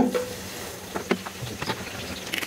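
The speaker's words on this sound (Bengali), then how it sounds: "সেই নারিকেল তেল আমি এখানে গরম করছি, এর মধ্যে আমি এই লেমন গ্রাসগুলোকে দিব।" Lemongrass drops into hot coconut oil in a pan, giving a soft, close sizzle with scattered crackles and light stirring taps, no voices over it.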